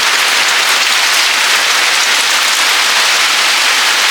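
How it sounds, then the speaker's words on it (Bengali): Heavy rain pours steadily outdoors, a dense, loud, unbroken wash of drops with no voices. "হেভি বৃষ্টি নেমেছে।"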